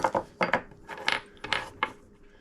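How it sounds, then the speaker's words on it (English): Metal parts of a Colt 1911 Commander pistol clicking and sliding during disassembly as the barrel is lifted and pushed forward out of the frame, a quick series of close, sharp mechanical clacks and scrapes, no talk. "Lift up on your barrel and then push it forward, it'll slide out"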